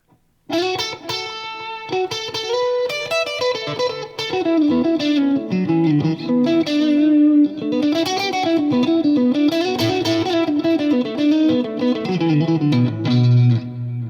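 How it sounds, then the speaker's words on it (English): Electric guitar plays a flowing melodic line through a delay and a Strymon BigSky reverb pedal, each note trailing into echoing repeats and a wide, roomy wash of reverb, loud and close. "I've got a little delay after and a reverb"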